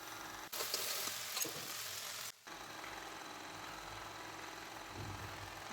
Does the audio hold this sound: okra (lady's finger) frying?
yes